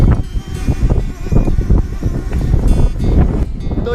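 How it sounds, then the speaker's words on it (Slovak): Strong wind buffeting a microphone out in an open field, a continuous roaring rumble with gusty surges that stays loud throughout. "No jak to fúči?"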